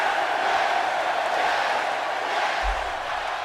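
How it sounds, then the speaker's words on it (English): A crowd claps and cheers in the Trade West Nintendo game show video games, a steady wash of applause and crowd noise throughout, with a short low thump near the end. "the clapping emote from the Trade West Nintendo Game Show games"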